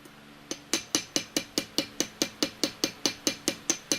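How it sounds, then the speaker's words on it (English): A small hammer peens the end of a metal piece for a brooch, making about fifteen sharp, bright metallic taps at an even, quick pace that ring briefly after each strike. "all I'm doing is making a whole bunch of what they call peens, which just means little hammer marks on the end of this"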